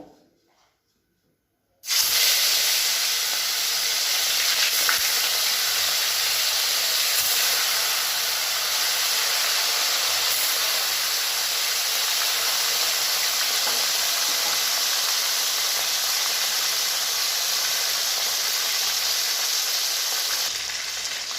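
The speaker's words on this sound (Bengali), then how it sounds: "এবার আমি লবণ ও হলুদ মাখিয়ে রাখা ভোলা মাছগুলো এর মধ্যে দিয়ে ভেজে তুলে নেব।" Bhola fish rubbed with salt and turmeric drop into hot oil, starting a sudden loud, steady sizzle that hisses on without a break.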